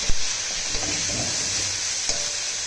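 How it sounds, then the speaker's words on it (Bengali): Chicken pieces fry in a pan for a chicken pizza, making a constant loud sizzle broken by a few sharp clanks of stirring near the start, in the middle and near the end. "চিকেনটা এখানে ফ্রাই করছে মা।"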